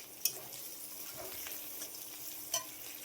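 Onion frying in hot oil with cumin, a quiet steady sizzle with a few soft stirring clicks, no talking.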